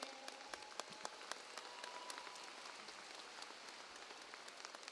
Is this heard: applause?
yes